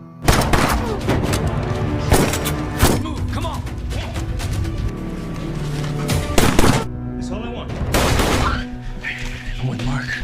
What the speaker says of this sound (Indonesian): Adegan baku tembak pun terjadi hingga menewaskan beberapa orang dari Bill.